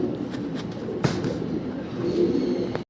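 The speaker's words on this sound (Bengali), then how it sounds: "একবারে হাই গ্রেডের কবুতর ভাই। লাহোরি কাকে বলে দেখেন।" Lahori pigeons, high-grade birds, coo in a continuous low murmur that stays fairly loud and close, the soft throaty calls overlapping with no break.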